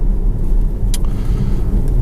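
A 2017 BMW X5 F15 with a 3-litre diesel engine picks up speed, heard from inside as a steady low engine rumble and road noise throughout, with one brief click partway through.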